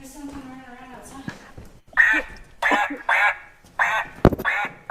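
A duck quacks outside on a patio in a series of loud, nasal calls in quick bursts, following a brief voice at the start.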